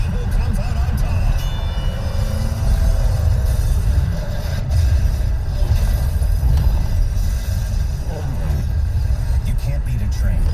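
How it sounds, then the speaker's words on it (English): A heavy freight train rolls past a level crossing, a loud, continuous low rumble and grinding of wheels that holds steady throughout, with faint squeals in the background. "a million-pound freight train that takes a mile to stop"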